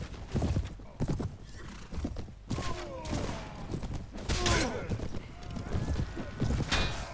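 Horse hooves clip-clop rapidly in a gallop while a horse neighs in a Mount & Blade battle, loud and near, with clashing thumps and gunfire-like bursts of combat around them.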